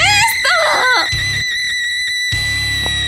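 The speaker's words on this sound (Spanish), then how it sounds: "¿Por qué estás gritando?" A person screams loudly and shrilly in a short burst, pitch sweeping up and down, then breaks off into a quieter room with a steady tonal hum behind it.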